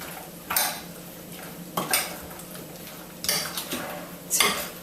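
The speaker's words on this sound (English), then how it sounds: "Give it a final stir." Raw ratatouille with olives is stirred in a bowl, four bursts of wet scraping and clinking from a spoon against the dish, close and fairly quiet, without talk.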